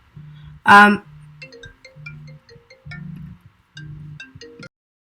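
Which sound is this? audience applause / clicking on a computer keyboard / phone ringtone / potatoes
phone ringtone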